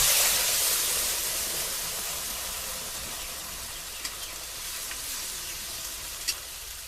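Onions fry in a little soybean oil, a soft, steady hiss that eases slightly over several seconds, with a couple of faint clicks toward the end and no speech.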